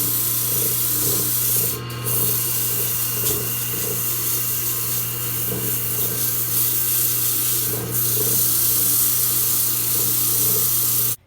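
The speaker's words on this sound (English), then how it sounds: "let's get some 80 grit sandpaper and start sanding this thing up" Walnut is sanded by hand with 80 grit sandpaper, producing a steady close scratchy rubbing that runs throughout with rhythmic strokes and a constant low hum beneath.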